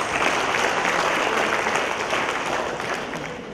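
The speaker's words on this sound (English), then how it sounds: "I think we deserve a big round of applause." A crowd claps steadily in sustained applause at a regional higher education summit, dense and even throughout, tapering only slightly toward the end.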